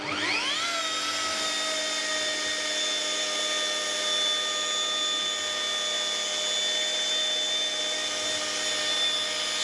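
A rotary machine polisher with a soft pad buffs car paint, giving a steady, loud whirring drone with a high mechanical whine that spins up at the start and holds constant throughout.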